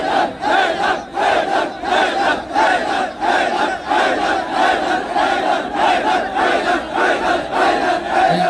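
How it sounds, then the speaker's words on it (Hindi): Large protest crowd in Bhilwara, Rajasthan, chanting slogans against the Gujarat police in loud, rhythmic unison, the massed voices pulsing in regular repeated phrases. "भीलवाड़ा के लोगों ने गुजरात पुलिस हाय हाय के नारे लगाए"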